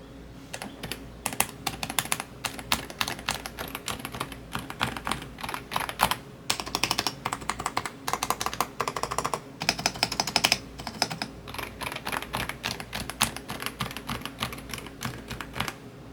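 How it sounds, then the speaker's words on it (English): Rapid, muted keystrokes tap continuously on an Epomaker DynaTab 75X keyboard with Sea Salt silent switches and foam dampening, soft and close with a slight dull thock, no voices. "I got this keyboard with the sea salt silent switches, and they feel and sound amazing."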